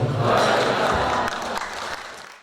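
A workshop audience breaks into applause, a short burst of dense clapping up close that thins out and fades after a couple of seconds.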